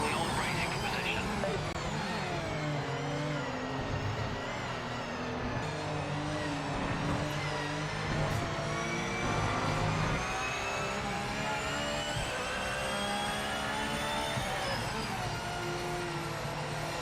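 A Porsche GT3 race car in Project Motor Racing drones steadily at high revs, its engine note shifting through gears, loud and continuous with no talk.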